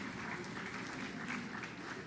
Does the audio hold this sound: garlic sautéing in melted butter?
no